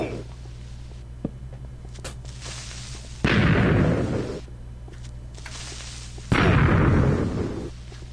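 Two creepers explode in modded pre-alpha Minecraft, each a sudden loud blast with a hissing, crackling tail, spaced a few seconds apart over quiet game ambience.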